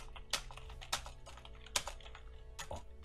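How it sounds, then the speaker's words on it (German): A computer keyboard clatters with loud, uneven keystrokes, a few sharp clacks among quieter taps, close up and with no voice over it. "Oh, hat der eine laute Tastatur,"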